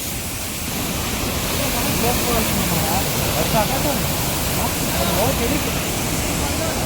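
A steady, loud rush of falling water at Mala Falls, Karkala taluk, Udupi, fills the scene, with people talking faintly beneath the constant roar.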